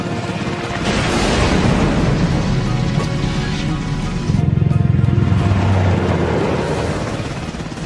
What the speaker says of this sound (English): Targets identified. Firing rockets.